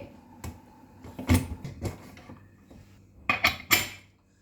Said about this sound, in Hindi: अब प्रेशर कुकर में हम लीड लगा देंगे।